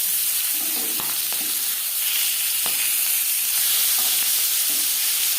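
Fresh fish frying lightly in a pan, a constant close hissing sizzle with occasional soft pops and spatters throughout.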